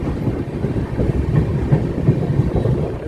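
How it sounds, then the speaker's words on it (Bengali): Saraighat Express train (12346, Guwahati to Malda Town) rounding a curve, heard as a loud, continuous low rumble with faint rhythmic rail clatter throughout and no voices. "খুব সুন্দর একটা কার্ভ নিয়ে বেরোচ্ছে আমাদের সরাইঘাট এক্সপ্রেস"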